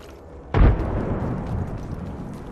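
A frag grenade goes off in the shooter game Apex Legends, one sudden loud boom that fades into a lingering rumbling tail, with no talking over it.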